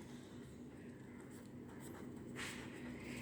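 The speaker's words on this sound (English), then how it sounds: "I will write down potassium" A pen writes chemical names on a surface, soft scratchy strokes running faintly and steadily against a hum of background noise, with a slightly louder burst of strokes near the end.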